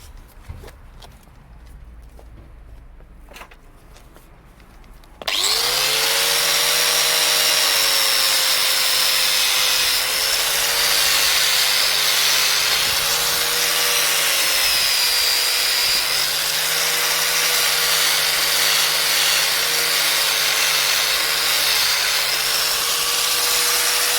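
Angle grinder with a wire wheel cleaning corroded metal back to sound steel on a BMW, starting abruptly after a few quiet seconds and then running continuously, loud and close, with slight shifts in pitch as it presses on the metal.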